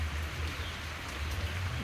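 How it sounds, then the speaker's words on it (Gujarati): Continuous rain that has kept up for two days, a steady close hiss of drops on surfaces with low rumble beneath and no voices. "વરસાદ પડી રહ્યો છે સતત 2 દિવસથી"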